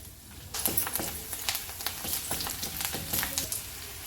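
Peeled garlic cloves frying in hot oil for a broccoli gravy, a bright crackling sizzle that starts abruptly and continues with irregular pops and spits, close and steady.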